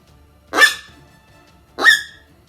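Two sharp, raspy bark-like blasts from an open reed coyote call, spaced about a second apart, loud and close with quiet between them.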